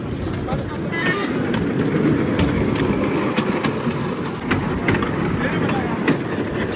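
A train running along a curving track gives a steady, close rumble with scattered metallic clicks throughout, and people talk over it.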